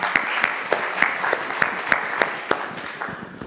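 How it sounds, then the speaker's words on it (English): A live audience at a professional seminar session in Muscat, Oman breaks into steady applause, a dense patter of many hands clapping with sharp individual claps standing out, fading slightly toward the end. "Let us give a round of applause."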